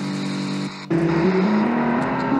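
Racing cars roar past close by, engines loud and steady with pitch shifts as they accelerate, continuous engine noise throughout.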